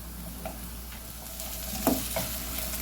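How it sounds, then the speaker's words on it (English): Green peppers fry in a skillet with a steady close sizzle, while a utensil stirs them through the pan with a few soft scrapes and taps. "I'm going to stir them around and get them going."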